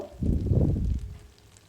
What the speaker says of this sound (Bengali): এরপর মাটনটা দিয়ে দেব